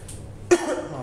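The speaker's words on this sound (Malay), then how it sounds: "maafkan saya, batuk kan?" A single sharp cough from a speaker during a Malay-language public speech on innovation culture, loud and close, followed by a brief trailing resonance in a quiet room.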